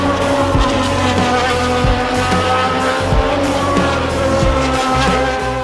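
Formula 1 cars, Prost and Berger, race along the straight with a loud, continuous high-revving engine roar, close and steady throughout, no voices.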